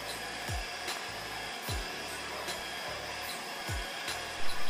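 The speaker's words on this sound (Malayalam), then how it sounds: "ഞാനൊരു 5-6 പ്രാവശ്യമായിട്ടാണ് മൈദ ആഡ് ചെയ്ത് ഇതുപോലെ ബീറ്റ് ചെയ്തെടുത്തത്" An electric mixer beating marble cake batter as flour is added a little at a time, a steady close whirring hum broken by a few bumps and knocks against the bowl.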